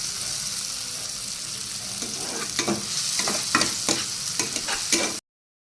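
Ivy gourd fries in a pan with salt, green chili and onion, giving a steady sizzle broken by repeated scraping stir strokes. It ends in sudden silence.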